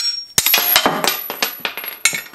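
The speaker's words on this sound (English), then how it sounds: "I might be able to just smack this with a hammer and get it out." Hammer blows knocking a suspension bushing out of its housing during a polyurethane bushing install, several sharp metallic strikes in irregular succession, loud and close.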